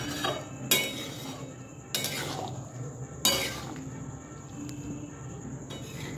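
Chicken keema ghugni simmers in a pan with a soft bubbling bed. Three or four sharp metallic clinks of a utensil against the pan stand out at intervals over the low simmer.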